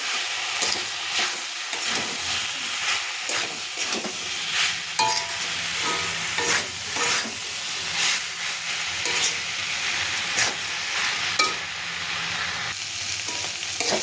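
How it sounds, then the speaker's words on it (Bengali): Fried potatoes and cauliflower are stir-fried in a pan, with a continuous sizzle broken by repeated spatula scrapes and knocks at an uneven pace, close and fairly loud, with no voices. "ভেজে রাখা আলুগুলো দিয়ে দিলাম, দিয়ে ভালো করে কষবো।"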